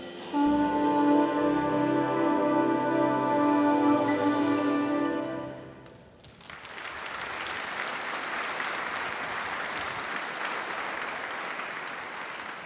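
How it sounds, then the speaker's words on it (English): A big band's held musical tones end and give way to loud, sustained applause from a convocation ceremony audience, continuing steadily for several seconds. "Let's keep it going. One more big round of applause."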